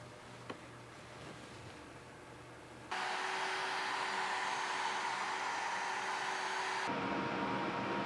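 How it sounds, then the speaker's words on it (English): Steady broadband sanding hiss of a radiusing jig working the back of a wooden neck block for an acoustic guitar, starting after a quiet lead-in and running loud and continuous, with a brief shift in tone near the end. "So we're going to use my neck radiusing tools and jigs to put a radius on the back of this."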